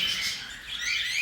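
Small birds chirp in a home aviary, a soft chorus of high twittering and tweets that continues steadily at moderate distance.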